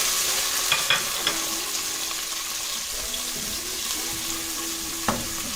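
Capsicum and onion stir-fry with fried garlic in a hot pan for restaurant-style chicken Manchurian, a steady bright sizzle with occasional sharp clinks and scrapes of the utensil.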